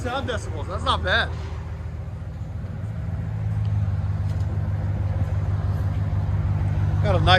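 RAM 1500 pickup with a 5.7L HEMI V8 and a Black Widow Venom race muffler aftermarket exhaust, idling with a low, steady rumble nearby while people talk over it at the start and end.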